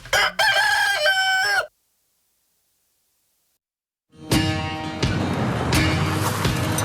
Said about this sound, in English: He's got the most glorious crow of any rooster I've ever heard